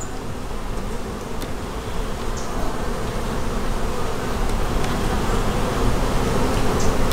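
Honey bees buzz steadily around hive frames near a drone frame, a dense, close swarm drone that thickens slightly over time, with occasional individual bees whining past.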